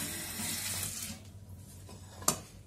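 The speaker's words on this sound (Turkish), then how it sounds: "Sarımsaklarımızı bir güzel yıkıyorum arkadaşlar." Water runs from a tap into a sink while garlic is washed, a bright splashing stream that fades after a second, followed by a sharp clink.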